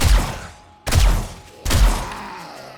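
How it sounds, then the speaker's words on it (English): Three heavy gunshots boom in the 7 Days to Die video game, Darkness Falls mod, evenly spaced under a second apart, each a loud close blast with a trailing echo. "But all that gunfire just now must have actually called more screamers."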